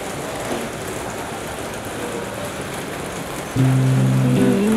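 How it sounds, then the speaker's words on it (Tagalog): Steady rain hisses over the University of the Philippines Diliman campus as a dense, continuous wash of drops. A brief tonal hum rises near the end. "Maulan ang hassle."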